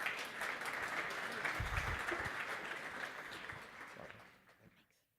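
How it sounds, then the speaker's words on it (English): Audience applause for panelists at a security token trading conference, a moderately distant, steady crowd clapping that holds for about four seconds and then tapers off into quiet. "So please give a big hand for Linda and the rest of the panelists."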